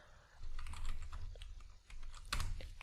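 Quiet, rapid typing on a computer keyboard while entering Python commands at a command prompt, a close run of light key clicks with a brief pause midway.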